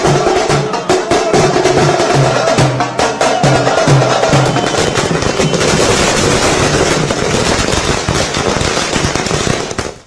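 Firecrackers crackle in dense, rapid bursts at a political celebration, a loud, continuous string of sharp pops with drums and noise of the festive crowd underneath.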